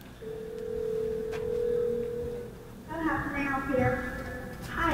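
An outgoing phone call placed by Google Assistant to a hair salon, heard as a long steady tone and then ringback and line tones, close and clear, with a voice talking over part of it.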